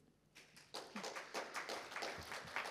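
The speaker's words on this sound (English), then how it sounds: "Everybody, please give a huge round of applause to our speaker." Scattered audience applause for a speaker at the PyCon APAC 2023 conference, faint and distant, with individual claps building from a few hands into a sparse, uneven patter.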